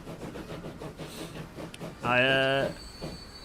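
A train with coaches runs in a railway video game alongside a tram, giving a low rumbling roll with a short, loud, tonal horn-like blast midway before the rumble continues.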